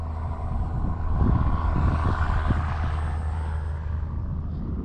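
A steady engine drone with a low rumble from an E-flite Valiant RC model airplane flying nearby, holding level throughout with no talking.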